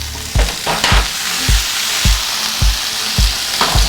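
Potatoes frying in a lot of oil give a loud, continuous sizzle, with rhythmic low thumps from stirring or tossing the pan roughly every half second.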